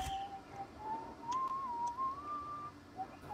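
Someone whistles a song in the Fortnite video game, a single sustained melodic whistle that glides up and down for about three seconds, moderately clear over faint game background with no speech.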